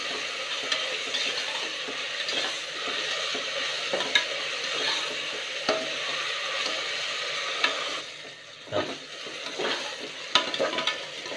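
Onions sauté with rock salt in a pan for a jeeraga samba mutton dum biryani. The close, steady sizzle is broken by repeated stirring scrapes and taps, with a short dip and a clunk partway through, and there is no speech.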